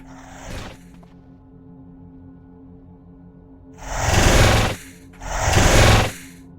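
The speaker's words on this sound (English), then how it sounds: "I'm just going to jackhammer my way in." A jackhammer breaks through an obstacle in the Cataclysm DDA video game: a short mechanical burst is followed by two loud, sustained rattling bursts of about a second each, separated by a brief pause.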